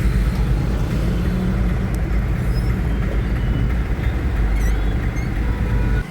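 Road traffic rumbles around a car in heavy city congestion, heard from inside the cabin as a loud, constant low engine and road drone with occasional faint distant horn-like tones and no speech.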